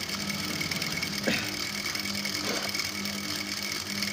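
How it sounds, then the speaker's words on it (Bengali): Sewing machine stitching the seam of a baby skirt palazzo, a steady, fast mechanical whirring and ticking that runs throughout, close by, with no voices. "এখান থেকে আমি ধরিটা পর্যন্ত সেলাই দিয়ে নেব।"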